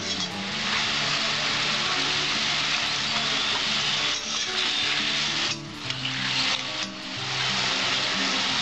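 Taro (arbi) chips fry over high heat in oil and are stirred continuously, giving a loud, steady sizzle with occasional scraping swells from the stirring, close up and without talk.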